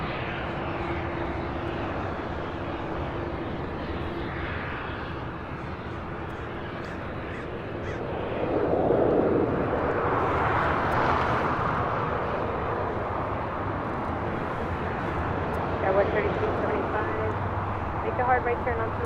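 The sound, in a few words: Philippine Airlines Boeing 777-300ER taking off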